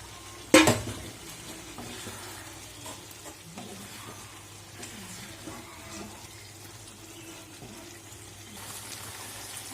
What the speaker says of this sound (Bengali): ভাজা আলুগুলো ছেড়ে দিলাম।